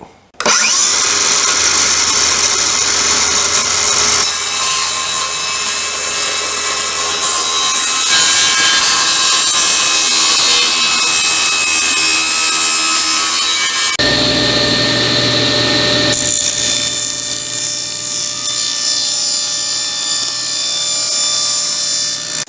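A power saw cuts wood for a small bookcase with drawers, a loud, continuous buzzing whine that holds steady for over twenty seconds, shifting in tone partway through as the cut changes.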